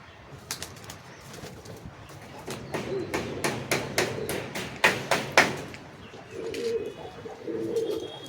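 Hammer blows ring out in a quick series of sharp strikes from coop building nearby, while pigeons coo softly in low bursts underneath and later alone.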